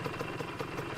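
A Honda CR250 two-stroke motorcycle engine idles steadily after a first start, with a continuous, even rumble close by and no pauses.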